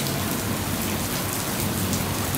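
Steady, heavy rain pours down in a dense, continuous hiss of drops striking surfaces, loud and close throughout, with no voices.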